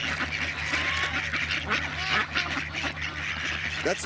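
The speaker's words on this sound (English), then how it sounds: "That's a goose, right? Is this a goose?" A goose honking outdoors on the road, giving a series of repeated nasal honks and squawks over a low steady background hum.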